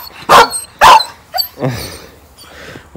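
Dogs at a family countryside garden give two loud, sharp barks close by, followed by softer yips and a whimpering bark, with no talk over them.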